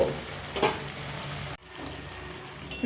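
Spinach stems simmering on low flame in their own released water, a close steady sizzle and bubbling with a couple of stirring scrapes and a brief dip midway.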